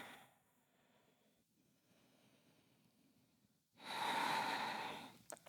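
Soft breaths drawn slowly during a seated chair yoga stretch for seniors, faint at first, then one louder, longer breath close to the microphone near the end.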